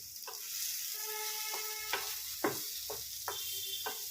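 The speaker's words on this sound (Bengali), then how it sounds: "এগুলো এবার ভেজে নিয়ে তুলে নেব। একটু জোরে আঁচ দিয়ে দিই।" Paneer satay frying over high heat, a steady bright sizzle of hot oil with several sharp spatula scrapes and clinks against the pan at irregular intervals.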